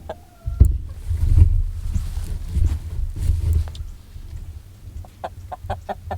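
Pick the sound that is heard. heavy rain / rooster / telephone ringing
rooster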